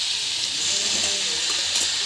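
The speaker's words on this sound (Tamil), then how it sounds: "நல்லா வதக்கிக்கோங்க" Vegetables sautéing in a pan give off a steady, close sizzle and hiss that runs unbroken throughout, with no one talking over it.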